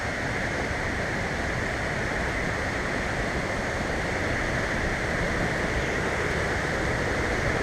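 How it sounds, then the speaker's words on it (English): Gushing waterfall of rushing river water at Copper Falls, a dense, loud, unbroken roar that stays steady throughout with no voices. "You can see the gushing waters here."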